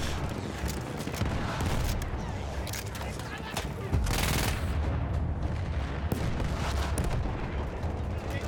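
Dense, continuous gunfire and booming explosions from a Battlefield 1 battle, with heavy-recoil weapon shots mixed into a loud, steady wall of combat noise, with some voices in the background.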